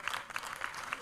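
A short burst of audience applause, many hands clapping at moderate volume.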